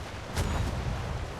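A ship's cannon booms once in a naval battle game, a single heavy low thud with a rumbling tail, close and loud.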